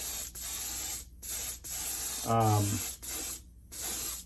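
Short bursts from a spray can laying a very light gray base coat onto a PS5 controller, several hissing sprays separated by brief pauses, close up, with a soft rattle partway through.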